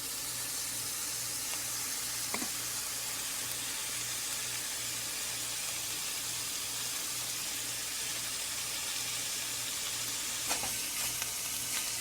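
Leafy greens sizzle steadily in hot sesame oil, a constant close frying hiss with occasional stirring clinks and no voices.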